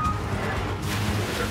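Large ocean waves at sea aboard a crab-fishing boat, a steady loud wash of surf and wind roaring continuously with low engine rumble beneath, no voices.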